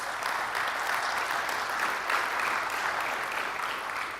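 Audience applause at a motor industry event, a dense, even wash of clapping from a large crowd that holds steady throughout with no voices over it.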